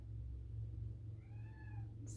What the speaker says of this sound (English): Some big meows for such a